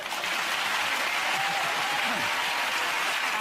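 A television studio audience at a comedy panel show breaks into loud, dense, continuous applause that carries evenly from start to finish, with faint talk beneath it.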